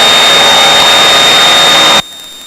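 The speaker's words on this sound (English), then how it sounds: "How do you like that kitchen timer?" A kitchen timer rings with a steady, piercing high tone inside the noisy cockpit of a Piper PA28 in flight. It sounds continuously over loud engine drone, then cuts off abruptly.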